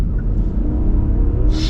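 Genesis G90 with a 5.0-liter V8 accelerating, heard as a steady low engine rumble from inside the cabin that holds level throughout, with a brief hiss near the end.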